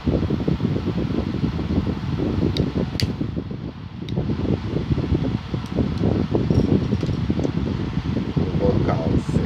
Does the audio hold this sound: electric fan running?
yes